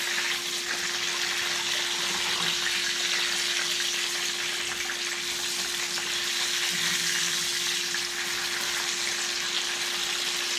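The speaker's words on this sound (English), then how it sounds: "I'm now about to flip these burgers." Hamburger patties frying in a pan, giving a loud, continuous close-up sizzle with no pauses and no talking.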